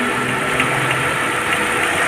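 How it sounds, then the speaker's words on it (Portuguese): A freshly assembled Chevrolet Celta engine idling smoothly half an hour after startup, with the radiator fan running; a steady, even hum and hiss, close and continuous with no talk. "O motor tá ligado aqui, ó."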